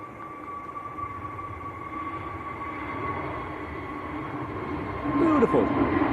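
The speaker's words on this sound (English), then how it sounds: "KLM on the roll" A KLM Airbus A321neo on its takeoff roll at Manchester Airport, bound for Amsterdam: a steady, distant jet roar with a thin engine whine, swelling slightly louder near the end.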